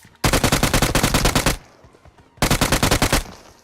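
A UMP submachine gun fires in a battle royale game, PUBG, in two loud, rapid full-auto bursts. The first runs over a second, a short gap follows, and a shorter second burst comes after it.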